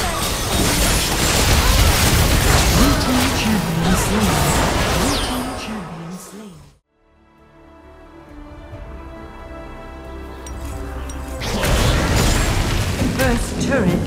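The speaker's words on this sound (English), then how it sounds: "First turret destroyed." A turret is destroyed in the mobile game Wild Rift, a loud booming crash amid dense battle noise, then a sudden drop to a quieter, humming stretch before the clamor swells back.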